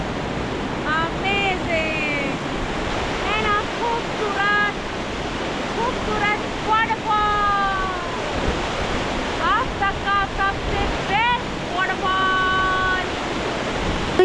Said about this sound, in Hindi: मैं मस्त यहाँ पर खड़े होके झरने की आवाज़ में खा रही हूँ